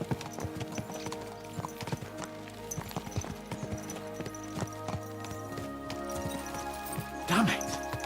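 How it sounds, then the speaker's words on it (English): Rapid clip-clopping horse hooves pound in a quick gallop rhythm under game music in Kingdom Come: Deliverance 2, with a horse whinny near the end. "Let's really spur these horses on, eh?"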